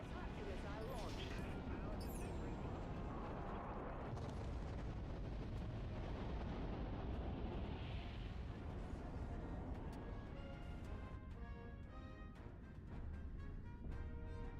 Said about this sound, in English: Disruptor missile launched.